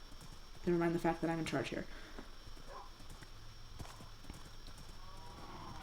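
A Minecraft horse clip-clops and snorts in the game, its hoofbeats and a brief neigh-like call near the start, followed by softer scattered steps while someone talks over it.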